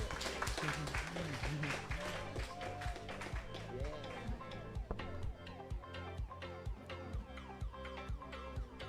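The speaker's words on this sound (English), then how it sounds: "Round of applause, please." An audience at an open mic poetry event claps, a scattered rhythmic patter of hands running throughout, with talk and other sounds layered over it at moderate loudness.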